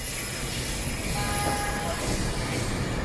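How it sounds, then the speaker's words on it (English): A train rumbles past steadily near CityPlace in rush hour, a broad continuous roar with faint high metallic tones over it, fairly loud throughout. "And there we go, just as I thought, another train."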